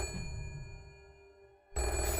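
A telephone rings with a steady, bright electronic trill that continues for most of the moment, then swells louder near the end, with no one talking over it.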